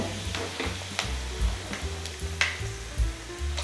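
Whole spices, cinnamon, cloves, fennel and bay leaf, sizzle in hot oil in a kadai, a close crackling fry with soft clinks of a ladle stirring against the pan.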